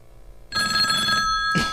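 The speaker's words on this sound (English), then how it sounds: "the phone's ringing" A telephone rings in a studio during a comedy talk show, a bright electronic ring with a short pause before a second burst, heard close and clear with no talking over it.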